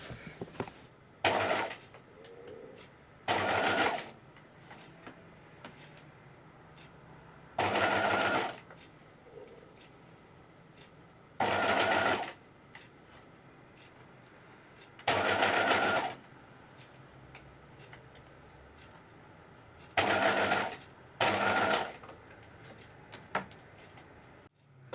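A sewing machine stitches sleeves onto a dress in seven separate loud bursts of rapid running, a second or so each, with quiet pauses between them and no talking.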